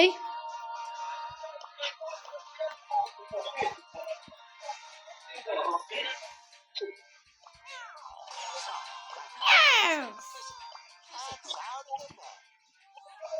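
Repeated cartoonish cat meows, electronic-sounding and varied in pitch, scattered over a game soundtrack with bleeps and effects.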